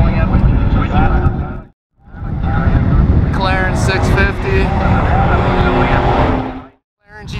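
A Ferrari Testarossa sports car roars past at close range, its loud engine note swelling and fading over several seconds, with a second car pass following a brief gap and a voice talking faintly beneath.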